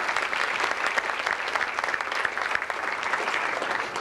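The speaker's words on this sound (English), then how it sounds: "Please a round of applause for everyone." A round of applause at a club dinner, steady and dense clapping from a seated crowd sustained evenly throughout, with no talking over it.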